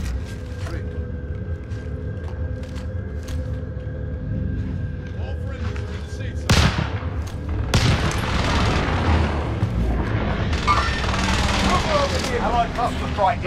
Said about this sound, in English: Launching a rocket.